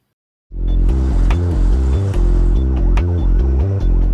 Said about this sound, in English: Heavy traffic, tall buildings.